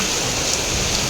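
Steady rain falls in a village, a dense, even hiss of drops with no breaks, close and continuous throughout.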